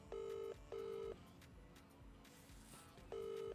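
Outgoing phone call ringback tone pulsing in three long, steady bursts with gaps between, moderately loud over a faint background, the call left unanswered.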